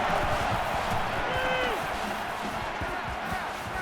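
Stadium crowd noise in the NCAA 14 college football game, Mississippi State at Florida, a dense steady roar filling the whole clip with a brief whistle-like tone partway through.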